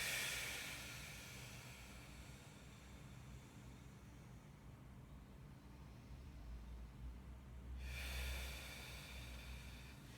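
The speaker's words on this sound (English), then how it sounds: "Breathing in and out through the nose." Soft, steady nasal breathing during a post-natal workout, inhaling through the nose and exhaling through the mouth. It is faint and close, with a breathy hiss at the start and again near the end, and no talk.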